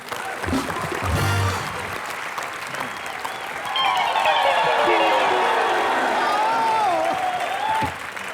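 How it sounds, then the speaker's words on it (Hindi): Applause from a studio audience at a comedy show, a long, full burst of clapping and cheering that swells partway through, while voices talk and call out over it. "इनके लिए जोरदार तालियां"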